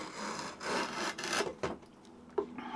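Draw knife shaving fine, razor-thin curls from wood, a few rasping scraping strokes close by, each a short textured rub with small clicks between, quiet and alone.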